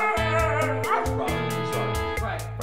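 A dog at home whimpers and yips in short, high, whining bursts close by, one cry after another with little pause.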